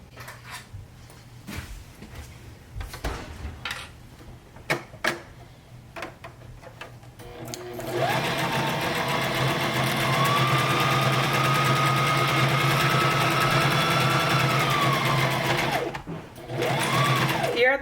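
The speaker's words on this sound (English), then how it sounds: "then we're gonna go sew with a straight stitch" A sewing machine runs a continuous straight stitch for about eight seconds, steady and close, pauses briefly and restarts, after soft handling clicks and fabric rustling.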